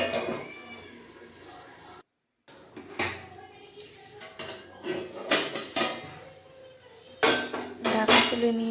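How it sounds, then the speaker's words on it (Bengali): A metal lid clinks and scrapes as it is lifted off a cooking pot of banana flower and fish head curry in a home kitchen, with several light clatters of utensils and pot, close and fairly quiet. "ঢাকা তুলে নিয়েছি।"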